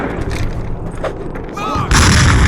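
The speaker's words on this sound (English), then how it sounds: "Grenade!" A grenade explodes amid gunfire in the Call of Duty video game: rumbling shots and battle noise build, then a loud, sustained blast erupts near the end.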